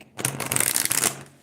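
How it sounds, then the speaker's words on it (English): Tarot cards shuffled by hand up close, a quick run of crisp riffling flutters lasting about a second, fairly loud, with no talk. "Let me give it one more good shuffle."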